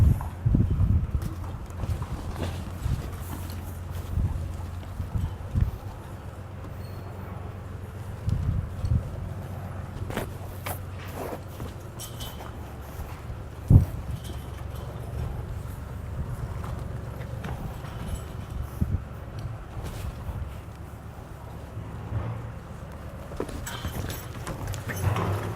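Hooves of a young horse being desensitized for saddling clop softly and irregularly on the ground, moderately close, with occasional thumps and light wind noise and no clear speech.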